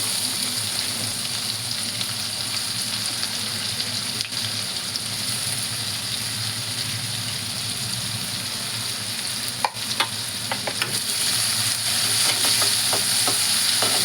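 Onion frying in a pan for a Maharashtrian zunka pithla dish, an even, steady sizzle lasting the whole stretch, with a spoon scraping and clinking through it from time to time, especially toward the end.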